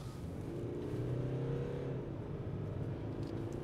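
A new Hyundai Santa Fe accelerating on the road, heard from inside as a steady low engine drone and road rumble that rises slightly in pitch, with no talking.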